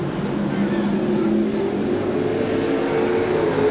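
Pro Stock race cars roar around Seekonk Speedway at a 1995 weekly race, a steady, dense engine drone filling the whole stretch as the pack runs late in a heat.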